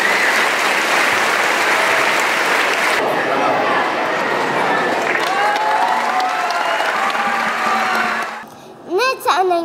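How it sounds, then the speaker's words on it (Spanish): An audience at a children's literary gathering claps steadily for several seconds, dense and loud, before the applause thins out and a voice speaks briefly at the end. "Un aplauso para todos ustedes."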